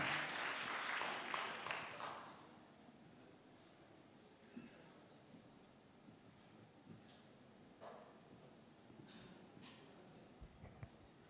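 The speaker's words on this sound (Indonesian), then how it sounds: "Untuk menutup sesi ini kita berikan aplaus untuk Bapak LK Ara" Audience applause at a public lecture on maritime culture ecosystems, a dense burst of clapping for a poet-speaker lasting about two seconds before fading into quiet room noise with faint shuffles and a few stray claps.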